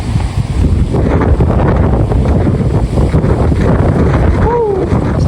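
Strong wind roars and buffets the microphone continuously near Mag-asawang Bato in Barangay Salvacion, loud and steady throughout, with a faint voice briefly audible underneath.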